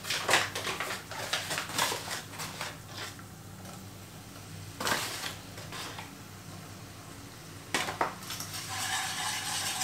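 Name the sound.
stirring flour into melted butter for bechamel sauce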